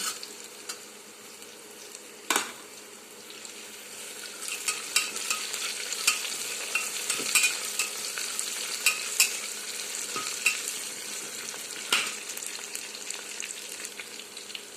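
Masala rice stirred in a pan as peanuts fry, a steady sizzle with scraping stir strokes and occasional sharper clatters of the spoon, close and continuous with no talking.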